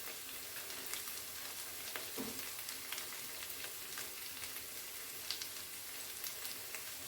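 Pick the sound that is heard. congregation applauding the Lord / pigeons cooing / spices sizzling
spices sizzling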